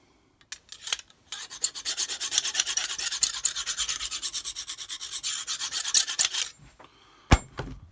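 A knife blade drawn across a Lansky sharpening stone, a close run of quick, regular rasping strokes that stops abruptly, followed by a single sharp scrape.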